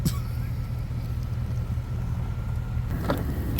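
A 1973 Dodge Adventurer Sport pickup truck with 67,000 miles idles steadily, a low continuous engine rumble running throughout, with a brief louder sound near the end.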